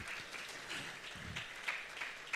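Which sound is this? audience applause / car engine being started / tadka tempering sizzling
audience applause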